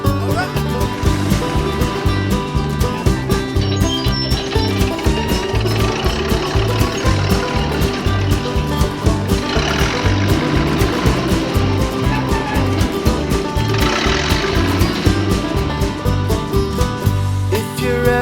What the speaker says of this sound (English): They have great big engines, and this is what they sound like.